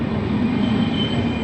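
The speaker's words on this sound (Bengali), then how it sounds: "অবশেষে ট্রেন চলে আসলো" A train pulls in with a low steady rumble and a faint wheel hum, brief and moderately distant, with no voices over it.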